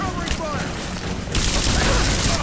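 Gunfire erupts in a Rise of the Tomb Raider firefight, rapid shots clattering over a dense, loud battle din that swells sharply halfway through, with voices shouting amid it.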